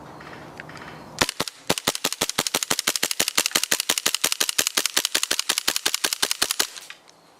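An ICS Challenger Hi Capa gas airsoft pistol fired rapidly outdoors, about thirty sharp cracking shots in a fast, steady string, loud and close, then silence once the magazine empties.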